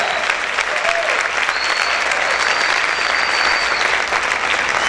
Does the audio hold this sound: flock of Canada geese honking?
no